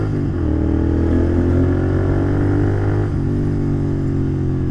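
A Royal Enfield Continental GT 650 motorcycle engine drones steadily while riding with gradual braking, a low twin-cylinder hum that dips slightly in pitch, close and continuous with wind noise.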